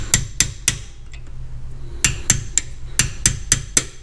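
Sharp metallic hammer taps strike a seized, rusted brake clip on a Jeep Liberty rear axle, coming in quick bursts of two or three blows with brief pauses between, close and loud.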